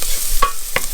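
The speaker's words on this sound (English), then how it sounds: "Our garlic has begun to sizzle, which is what we're looking for." Garlic sizzling loudly in a hot pan, a constant close hiss broken by a couple of brief clinks of stirring.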